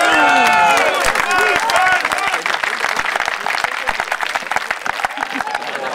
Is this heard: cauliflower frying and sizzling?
no